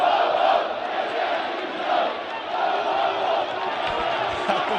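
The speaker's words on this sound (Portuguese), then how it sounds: "A torcida do Vasco é maravilhosa, gritando terceira divisão" Vasco football fans chant together in a stadium, a loud, sustained crowd roar with swelling rhythmic shouts from a distant mass of voices.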